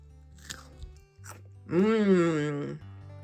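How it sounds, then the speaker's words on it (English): A couple of sharp crunches from biting into crisp asparagus, followed by a drawn-out voiced hum or groan of enjoyment. "I like to eat the asparagus with my fingers, just crunch them."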